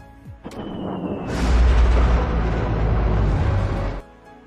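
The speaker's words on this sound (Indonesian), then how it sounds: "Dan Crypto melihat roket itu meledak" A rocket explodes in an animated superhero film, a loud sustained roaring blast that swells after a brief crack and rumbles for a few seconds before cutting off.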